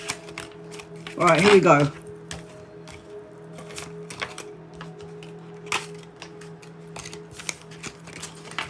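Tarot cards are gathered from a table, giving soft scattered clicks and slides with a brief louder shuffle near the start, while someone talks over them.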